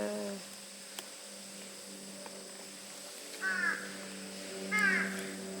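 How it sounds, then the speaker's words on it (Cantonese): Two harsh crow caws sound at a moderate distance at a zoo in Korea, a second or so apart, over a steady low electrical hum. "仲有啲烏鴉聲"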